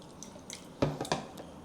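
A small splash of water poured into a bowl of sliced beef marinating with light soy sauce and wine for Hunan stir-fry, a brief close trickle and drip lasting under a second.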